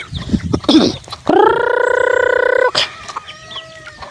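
Backyard hens with tiny chicks cluck close by, broken by one loud, drawn-out call in the middle and short clucks before and after.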